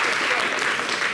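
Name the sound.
audience applause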